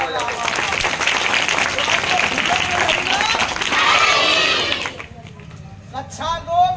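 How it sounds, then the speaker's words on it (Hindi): Audience applause at a street play promoting awareness of the Nipun Bharat mission in Uttar Pradesh, a steady crowd clapping with murmuring for about five seconds, then breaking off into scattered claps and voices. "ताली बजाइए, ताली बजाइए"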